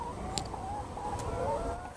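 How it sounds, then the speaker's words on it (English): Hens cluck softly at a moderate distance, a few brief, low calls scattered over a steady background hum, with no one speaking. "The sound of hens is cluck."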